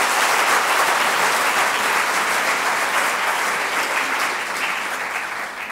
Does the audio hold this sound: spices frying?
no